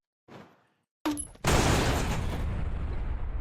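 Explosions from a China Lake grenade launcher in the game Space Station 14: a brief burst, a pause, then a sharp blast that rolls straight into a loud, sustained roaring wash of explosive noise.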